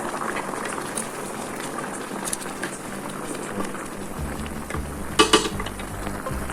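Chicken curry bubbling at a steady boil in a pot just after broth is poured in, a continuous close simmer with a brief clatter of utensils near the end.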